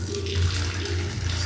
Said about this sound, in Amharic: ሻወራችን። እስቲ ይፈሳል